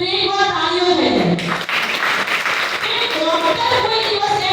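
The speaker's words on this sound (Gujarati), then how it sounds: "તો એકવાર તાળીઓ થઈ જાય." An audience bursts into applause at a health talk, a broad wash of clapping rising about a second and a half in and blending with tonal background music.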